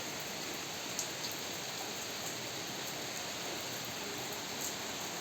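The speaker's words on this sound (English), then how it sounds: "It's raining too hard." Heavy rain pours down steadily, a dense, even hiss of drops beating on surfaces nearby, with no voices.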